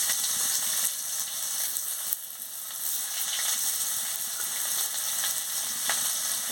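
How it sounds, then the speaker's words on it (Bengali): Panch phoron and chopped onion frying in hot oil give a dense, loud, continuous crackling sizzle with a brief dip partway through and no talking. "এবার আমি পাঁচফোড়নটা দিয়ে দিচ্ছি, পেঁয়াজ কুচি দিয়ে দিচ্ছি"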